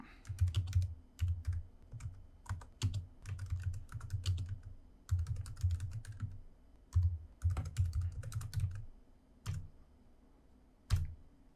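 WP-CLI commands typed on a computer keyboard, close-up bursts of rapid key clicks separated by short pauses, ending with a few isolated keystrokes.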